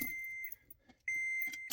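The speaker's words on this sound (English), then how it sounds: "you're going to hear this irritating beep" A Toyota FJ Cruiser's key-in warning chime sounds as two sustained electronic beeps with a short gap between them, alongside faint key jingles and clicks.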